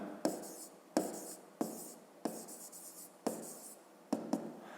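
A pen writes out a maths solution by hand on paper, making short scratchy strokes that come in about seven quiet bursts, each beginning with a small tap, with no talk over them.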